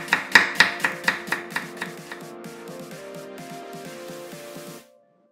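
A knife thinly julienning an onion on a cutting board makes about a dozen crisp, rhythmic chops that gradually slow and soften, with tuneful background music continuing underneath.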